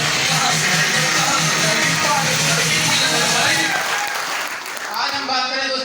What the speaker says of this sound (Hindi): इंडस्ट्री के लिए जोरदार तालियां